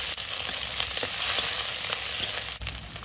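Five-spice seeds, chopped onion, ginger, garlic and split green chillies fry in a pan with a close, lively, crackling sizzle. Occasional stirring clatters break through, with no voices.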